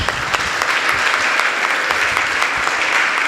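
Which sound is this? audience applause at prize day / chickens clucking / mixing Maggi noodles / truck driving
audience applause at prize day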